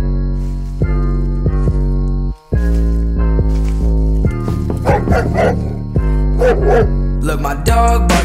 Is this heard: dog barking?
yes